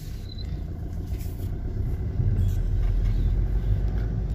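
A Maruti Swift with a low boost pressure fault and pickup drop rolls along the road, its steady low engine and tyre rumble building slightly and holding close and continuous without talk.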